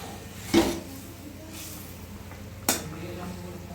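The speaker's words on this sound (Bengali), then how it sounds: "নাড়িয়ে দেবো।" Rohu fish cooks in a pan over a low background sizzle, with two distinct sharp utensil clinks and scrapes from stirring, one early and one later, close to the listener.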